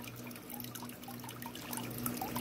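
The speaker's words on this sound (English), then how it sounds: "I saw a little drip" Water dripping from a leaking outdoor waterfall tank, a quiet, steady trickle with soft drips over a low background hum, faint and close by.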